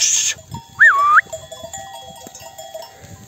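Sheep and lambs on a highland summer pasture: one short, wavering bleat-like call rises out of a quiet field, with faint scattered animal sounds and rustling around it.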